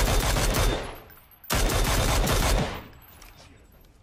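Gunfire from the Mini rifle in the video game PUBG: two loud sustained bursts of rapid shots, the first about a second long and the second just over one, each fading into an echoing tail, with no talking.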